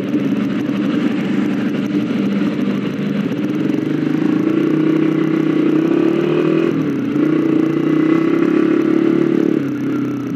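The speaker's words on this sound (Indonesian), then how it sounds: "Ini mobil sapi ya." A cattle transport truck's engine drones loudly and continuously nearby, with a low rumbling hum, rattling clatter and slight pitch changes as it runs.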